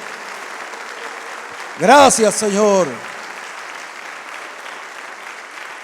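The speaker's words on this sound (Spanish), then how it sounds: "Demos un aplauso al Señor." A church congregation applauds in a steady, even wash of clapping that runs the whole time, with a voice briefly speaking over it near the middle.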